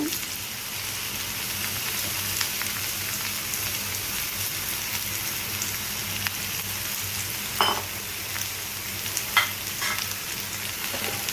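Pointed gourd (potol) slices frying in a pan, a steady broadband sizzle with occasional sharper pops and crackles, close and continuous with no talking.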